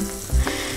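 Onion, green chili and ginger frying with mutton mince in a karahi, a short close sizzle with a couple of soft stirring thumps.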